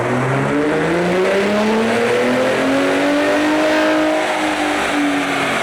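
Gen 3 Ford Raptor running JB4 Map 2 on 93 octane, its engine droning loud and continuous as the pitch climbs through a steady pull, with no pauses.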